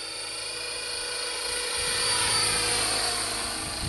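A training helicopter flies a figure-8, its steady rotor and turbine roar holding constant and fairly close, swelling slightly midway, with no voices over it.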